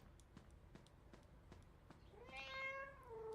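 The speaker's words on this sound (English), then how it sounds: "Let me pet the cat." A cat lets out one drawn-out, rising and falling meow near the end, close and fairly loud, after a stretch of soft, rhythmic background thumps.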